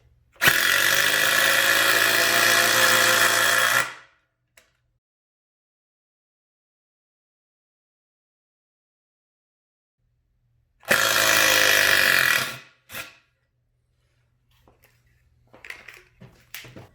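A cordless 1/4 inch impact driver hammers loudly in two bursts, first a long run of about three and a half seconds, then a shorter one after a long silence, followed by faint handling clicks.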